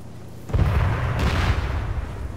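High-explosive artillery shells detonate in the ArmA 3 war game, a heavy rumbling boom with a sustained roar and a second blast layered on top, loud and low-pitched.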